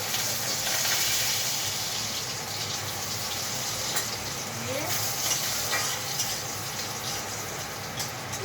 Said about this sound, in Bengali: একটু রসুন কেটেছি, একটু আদা কেটেছি কুচি কুচি করে, এটা একটু তেলে দিলাম